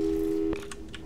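In the Portal video game a telephone busy signal sounds, a steady electronic tone that cuts off abruptly partway through, followed by faint background noise.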